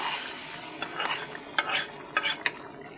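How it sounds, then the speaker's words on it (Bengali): Panch phoron, onion, garlic and dried chili tempering crackle and sizzle in hot oil, with a bright hiss and a run of sharp pops and scrapes from stirring, fairly loud and close. "এবার আমি পাঁচফোড়ন, পেঁয়াজ, রসুন এবং শুকনো মরিচের ফোড়নটা এখানে দিয়ে দিচ্ছি।"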